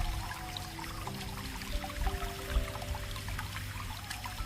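Holy spring water flowing from taps at a Marian grotto, a steady continuous pouring and splashing with faint outdoor ambience and no speech.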